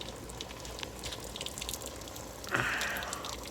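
Water trickles faintly from holes drilled in the bottom of a homemade PVC box-frame irrigation setup fed by a barely opened faucet, a soft, steady patter with a brief louder splash near the end.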